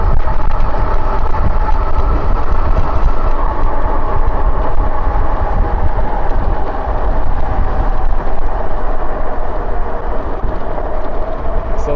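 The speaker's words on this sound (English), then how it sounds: "You can hear that motor kick in." A Wired Cruiser 2024 electric bike motor hums steadily on pedal assist while riding in top gear, a loud, even drone blended with road and wind noise, with no talk.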